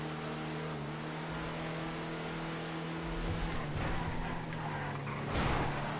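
A racing truck in the video game GTA FiveM drives with a steady droning engine note, the pitch rising and falling as it revs, accelerates and shifts, loud and continuous throughout.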